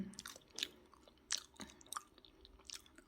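Close, wet chewing of a Cameroonian dish, a stew like long-boiled perilla leaves cooked down with fish sauce and pork fat, with several soft crunchy bites spaced irregularly over quiet room tone.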